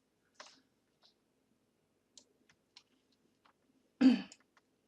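Several sparse, quiet clicks of keys being typed on a computer keyboard while entering a city name into an Excel 2016 formula, separated by pauses, ending with one louder, fuller tap near the end.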